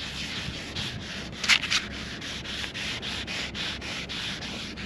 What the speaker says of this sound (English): In between coats, you just roughen the surface of the varnish a little bit to give the next one something to grip